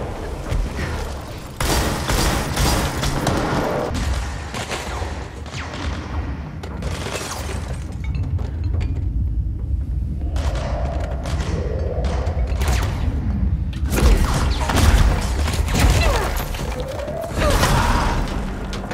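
Repeated heavy booms and crashing bursts from bombs exploding in the game SHUM, loud and close, over a constant low rumble with scattered clattering debris.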